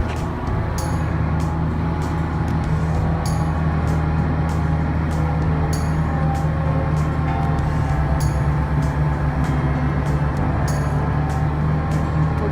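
A Kubota 8536R tractor running a 1000 RPM center pivot mower, its deep engine drone steady and loud throughout, with faint clicking ticks repeating at a regular pace over the rumble.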